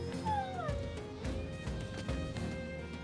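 Dogs in the video game Battle Brothers yelp and bark in short repeated bursts over game music and ambience, several sharp calls overlapping throughout.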